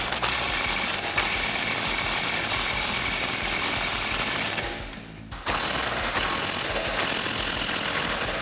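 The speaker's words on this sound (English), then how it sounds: "I'm gonna begin by tightening up our track bar" Rapid, continuous ratchet clicking up close as the track bar bolts are tightened while fitting a SkyJacker 2-2.5 inch dual suspension lift kit on a Jeep Wrangler JLU Rubicon, with a brief pause partway through before the clicking resumes.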